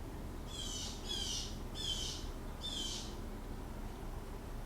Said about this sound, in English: Can you hear the birds? I have the door open.